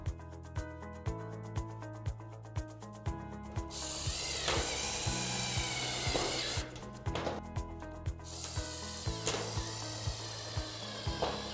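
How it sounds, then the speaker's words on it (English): Screws driven into a wooden garden shed front door panel with a power screwdriver, six in turn, each a rapid ratcheting whir ending in a tightening click, with brief pauses and a rasping rub between. "So we're going to put 6 screws through here now, evenly spaced."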